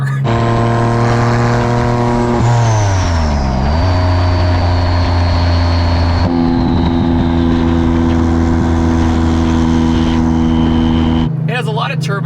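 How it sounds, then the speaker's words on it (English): A 700-horsepower Porsche 996 Turbo flat-six roars close up with a loud, continuous drone and a high turbo whine, its pitch dipping and climbing through gear changes before settling into a steady pull. "It has a lot of turbo noise."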